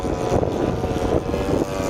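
A large propeller warbird flies past with a steady, loud engine drone and rumbling airscrew throb, swelling and easing slightly over the whole stretch with no voices.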